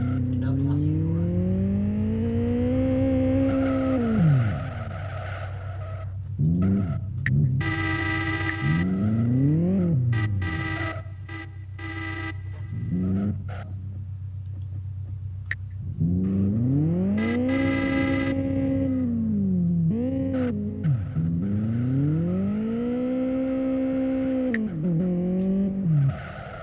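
Car engine and tires in the Live for Speed racing video game, with repeated rising and falling revs and shifts that sound loud and continuous, while people talk over the game audio.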